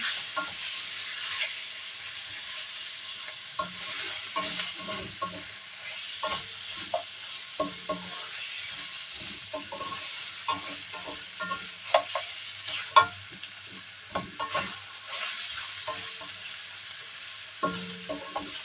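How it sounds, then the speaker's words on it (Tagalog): Chicken stir-fried with ampalaya and ground black pepper, steady frying sizzle with repeated scraping spatula strokes and light clacks against the pan, close and continuous; no talk. "Halo natin yan. Halo-haluin natin."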